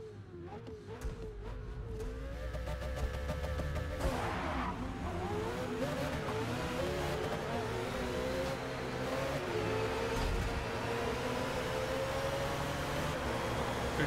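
A 2017 Ferrari GT3 race car roars through a Le Mans night race in a racing video game, its engine droning steadily with shifting revs, gear changes and a sustained, loud whine throughout.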